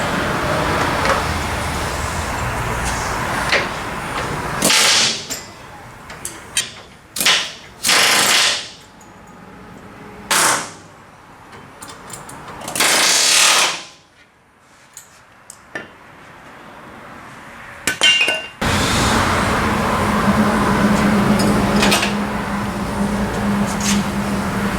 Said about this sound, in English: We'll drill our new hole to set up our new bracketry.